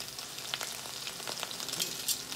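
Salmon seasoned with garlic and herb and seafood seasoning sizzles in a hot pan, a soft, continuous frying hiss broken by small sharp pops and crackles, heard up close and alone.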